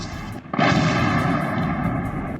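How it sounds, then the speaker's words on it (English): A powerful explosion over Crimea, a heavy boom that hits abruptly after a brief lull, then a long, loud, rumbling roar sustained to the end with no voices. "a powerful explosion sounded over Crimea"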